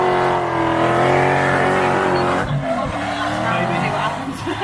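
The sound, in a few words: Toyota Chaser drift car at race track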